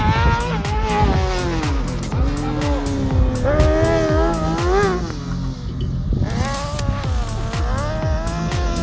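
A Speedcar Xtrem 600 racing on a dirt track. Its engine revs loud and close, climbing and dropping in pitch through repeated gear changes with no pause.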